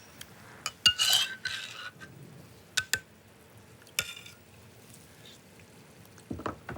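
A spoon clinks against a pan while lemon juice goes into a sauce, giving a few sharp metallic taps and brief stirring scrapes over a faint kitchen background.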